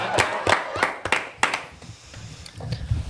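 A small group of people gives a round of claps, with several distinct sharp hand claps in an irregular rhythm over low room noise and faint murmuring, fading into quieter background sound.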